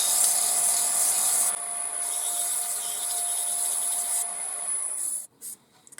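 Fine 400-grit abrasive sands an apricot wood cup spinning on a lathe. The steady close hiss carries a constant high whine from the machine, then fades and breaks off near the end.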